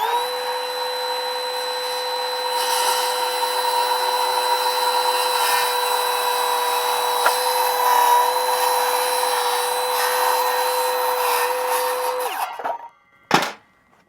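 Circular saw cutting timber cladding freehand, a loud, steady whining cut that runs for about twelve seconds before the motor cuts out, followed by a short sharp clatter.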